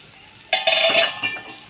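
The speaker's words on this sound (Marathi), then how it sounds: "आता आपण झाकण काढत आहोत." A lid comes off a pan of stuffed okra (bharli bhindi) cooking on the stove, a sudden close metallic scrape followed by a bright sizzle and clink.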